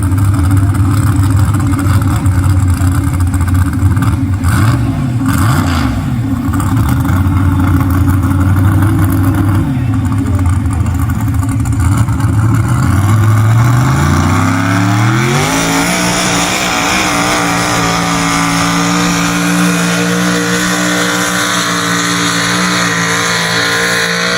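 A Ford 4x4 truck with a small block engine runs loud and close in a small block 4x4 truck competition at a county fair. It holds a rough idle, then revs up through rising pitch to a sustained high roar.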